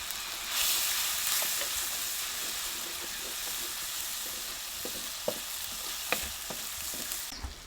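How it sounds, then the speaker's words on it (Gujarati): Chopped tomato and peanuts hit hot oil in a pan while cooking gunda (gumberry) curry, setting off a loud continuous sizzle with occasional spoon scrapes and taps against the pan, close up. "અને આ ટમેટું નાખી દઈએ અને આ શીંગના દાણા"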